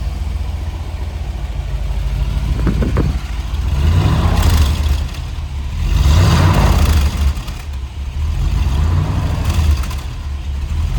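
An LS2 V8 in a 1964 Chevrolet Corvette coupe rumbles at idle after a cold start, with three strong throttle blips that rise and fall at a close, loud exhaust over the steady burble.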